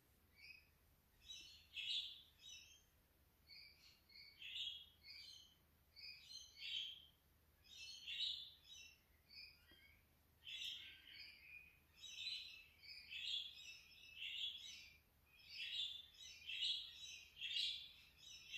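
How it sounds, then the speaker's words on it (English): Birds chirp on a nice day in Sydney in repeated bursts of bright, quick tweets that come and go, fairly faint and distant, with no voices. "Seem to have a lot of birds in the background today."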